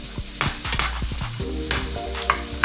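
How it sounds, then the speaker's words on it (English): Onions sautéing in a hot skillet, a close sizzle with repeated scrapes and stirs of a utensil against the pan, steady and busy throughout with no speech. "I'm going to saute these first in a hot skillet just to get the flavor out of the onion."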